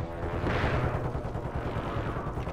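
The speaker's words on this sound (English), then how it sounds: "snap, we get an airstrike" An airstrike in Call of Duty Warzone on Rebirth Island lands as a heavy, rumbling explosive roar that swells and lingers for a couple of seconds, thick with low booming debris.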